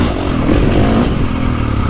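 A KTM 350 XC-F four-stroke dirt bike engine runs loud and close, holding a steady, gritty roar with slight revving swells and no pauses.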